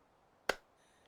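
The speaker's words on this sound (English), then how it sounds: "Oh, who's clapping?" A single sharp hand clap in the video game Mimesis, one crisp transient standing alone over a quiet background with no talk.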